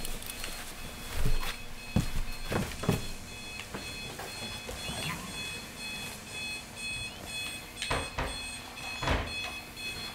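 A steady, ringing alarm clock tone sounds in Luigi's Mansion 3, persisting under scattered thumps and footstep-like knocks without talking.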